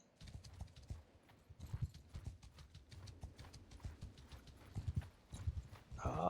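Horses galloping in the Bannerlord video game, a dense, continuous clatter of hooves from several mounts riding together at close range, fairly quiet in the mix, with no talking.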